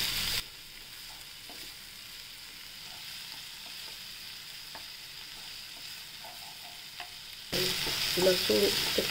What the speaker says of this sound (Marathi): लसूण आणि आलं याची बारीक वाटून घेतलं होतं ते टाकूया